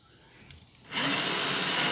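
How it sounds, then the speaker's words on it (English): A power drill spins up on a homemade cable stripper. It starts abruptly after a quiet moment and holds a steady, close, high whine with no voices. "Turn the drill on"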